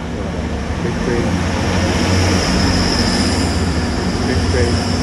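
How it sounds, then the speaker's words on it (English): A train rumbles past close by out of London, loud and continuous, with steady wheel and engine noise throughout. "Big train."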